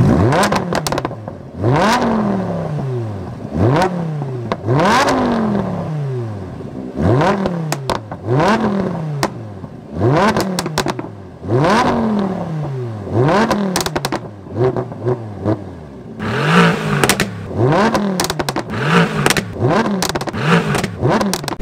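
A Lamborghini Huracan LP610-4 or Mercedes-AMG GT R sports car engine revs hard about a dozen times, each loud rise and fall arriving close, with rattles and clatter between the repeated throttle blips.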